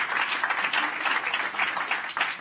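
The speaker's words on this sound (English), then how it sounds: "You can applaud. I think that's very deserving." Audience applause fills the hall at a United Nations General Assembly health forum, a steady dense wash of many hands clapping at moderate volume with gentle swells, no talk over it.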